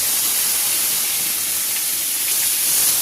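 Tomatoes and green chillies hit hot oil with ginger paste, giving a steady, close, loud sizzling hiss that holds on without a gap.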